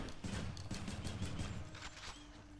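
Adamant Rail gun firing in Hades on the Nintendo Switch: a dense, sustained volley of rapid, punchy shots with heavy low thumps, loud and close for the whole stretch with no talking.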